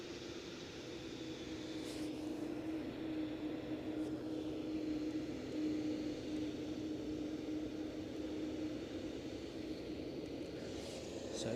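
Canadian Boeing Dreamliner airliner at Edinburgh Airport, a steady broadband jet roar with a faint whine, continuous and moderately distant throughout, no voices.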